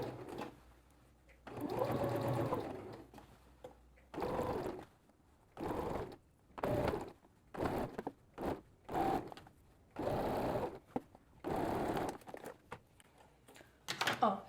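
A sewing machine sews a seam on a pair of shorts, backstitching at the start. It comes in quiet, repeated bursts of rapid stitching separated by short pauses.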